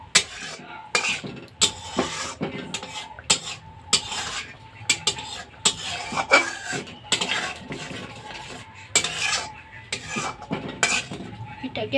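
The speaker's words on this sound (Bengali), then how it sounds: "এটাকে ভালো করে আরেকটু আমি কষিয়ে নেব মশলাটাকে" A utensil stirs and scrapes spice masala frying in a pan for palak paneer, giving repeated irregular clinks and scrapes over a soft low sizzle.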